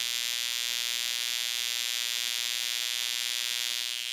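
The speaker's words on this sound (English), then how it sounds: "But this is a decent spark." A ZPZap violet ray wand sparking: a steady, loud electric buzz with a harsh high-pitched hiss, continuous and unbroken throughout, like a high-voltage spark crackling close by.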